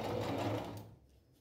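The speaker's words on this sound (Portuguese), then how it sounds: "E vamos continuar a costurar aqui, ó." A sewing machine runs steadily while stitching fabric for a patchwork placemat, a close, loud motor whir that winds down and stops about a second in, leaving faint room noise.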